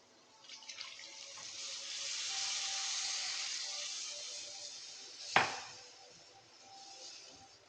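Water poured into frying chili powder masala for a kovakka and green chili pickle, a steady hissing pour with a sharp sizzling burst partway through, alone with no talk.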